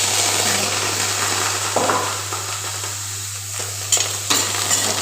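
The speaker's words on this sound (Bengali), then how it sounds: "একসাথে ফ্রাই করে নেব রসুনের তেল।" Chilies and garlic fry together in oil and are stirred, a loud close sizzle with a few scraping clicks of the spatula over a steady low hum.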